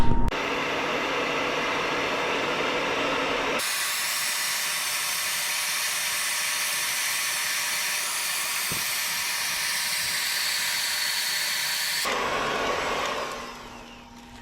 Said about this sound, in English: I'm gonna try and use a little bit of heat and a scraper